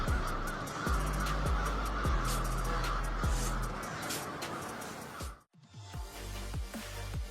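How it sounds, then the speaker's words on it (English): A large flock of birds rises over a train station, their honking, goose-like calls layered densely together, punctuated by repeated deep thumps and one brief dropout near the end. "A real storm of birds rose above the train station"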